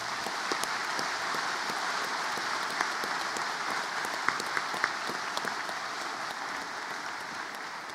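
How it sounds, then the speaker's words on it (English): A hall full of people at the MIC graduation ceremony applauding for the graduates, a steady, even wash of clapping from a large crowd heard from a distance, with occasional sharper individual claps popping out. "Can I just ask you one last round of applause for all of those who have graduated thus far?"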